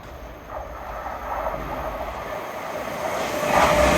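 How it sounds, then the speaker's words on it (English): LNER Class 801 unit 801204 passes through Alexandra Palace station on the East Coast Main Line, a steady rumbling rush that builds in loudness over a few seconds, with no talk. "passing through now is 801204 Our Planet en route from London King's Cross to Edinburgh"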